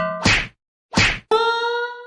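Two sharp cartoon slaps in quick succession, loud and close, followed by a sustained ringing musical tone from an animated comedy.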